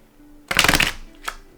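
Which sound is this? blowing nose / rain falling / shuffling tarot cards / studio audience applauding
shuffling tarot cards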